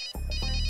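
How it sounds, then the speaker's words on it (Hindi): A phone ringtone, a short bright electronic ring bursting in abruptly and repeating in quick pulses, loud and close. "Phone phone phone."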